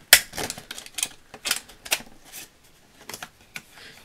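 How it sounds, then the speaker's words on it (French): A paper hole punch straining through two layers of paper for a Christmas album page, giving a series of sharp, close clicks and clacks at an irregular rhythm, with short pauses between them. "C'est normal que ma perforatrice a du mal. En fait, là, il y a deux épaisseurs et elle aime pas trop."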